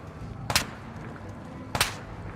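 Two sharp gunshots in Fallout New Vegas with a Wild Card modlist, spaced about a second apart and fairly distant over a low background hum, with no talking.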